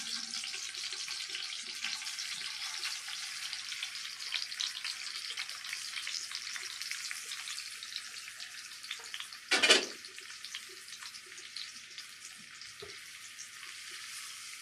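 Flour-coated onion slices fry in a pan of hot oil, a steady close hiss that runs throughout, with one brief louder burst of sizzle partway through.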